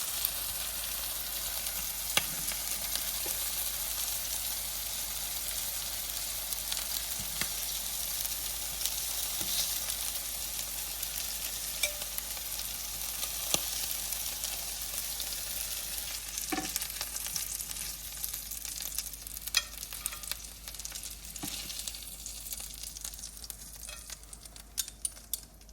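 Scallops fry on a stovetop in a steady, close sizzle that runs unbroken the whole time, with faint scrapes and stirring ticks on top and no talking.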